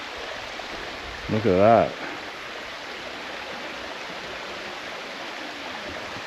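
Waterfall at Karijini as heard from the top of the falls, a steady broad rush of flowing water throughout, with a brief voice speaking over it early on.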